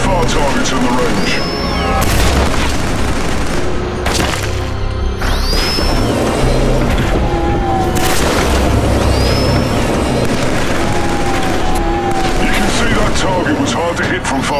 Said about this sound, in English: Try shooting those far targets in the range.